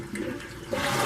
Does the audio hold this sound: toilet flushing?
yes